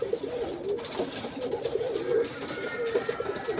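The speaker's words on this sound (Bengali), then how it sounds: "এটাই হচ্ছে একটা ভালো কবুতরের বৈশিষ্ট্য" Soft, low pigeon cooing repeats in a gentle rolling rhythm, fairly quiet and close, with a faint hum of background noise.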